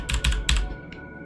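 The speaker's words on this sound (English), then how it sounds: "you'll hear the clacky-clack of my keyboard" Computer keyboard typing at close range: three quick clacky bursts of keystrokes in a rapid run, followed by one fainter tap.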